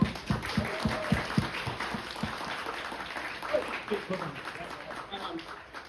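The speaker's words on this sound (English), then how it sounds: "Give him a round of applause." An audience claps together at an event for a biomarkers science talk, with sharp claps at first that blend into a broad, steady wash of applause.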